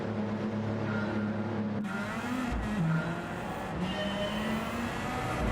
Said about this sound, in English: This is a Nissan Super Silhouette, which is a very tricky car to drive.